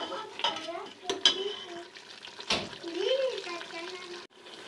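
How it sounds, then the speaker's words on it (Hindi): Chicken feet curry frying in ghee in a pot, a soft steady sizzle with occasional stirring scrapes and clinks, close and moderate in level. "अब हम इसकी 4 से 5 मिनट भुनाई करेंगे।"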